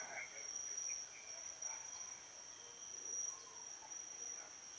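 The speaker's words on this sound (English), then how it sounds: "there's a sing-song of the insects from the forest around me." Insects sing in a forest in Bali: a steady, high-pitched, continuous chorus of crickets and other insects, with faint scattered background sounds underneath and no talking.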